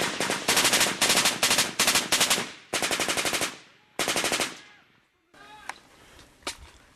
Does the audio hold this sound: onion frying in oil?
no